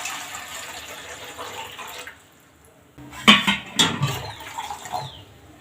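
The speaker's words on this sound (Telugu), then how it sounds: "స్టవ్ వెలిగించి అందులో 1 టంబ్లర్ నీళ్ళు పోయండి" One tumbler of water poured into a pot on a lit stove, a soft trickle followed by louder splashing bursts and sloshing in the second half.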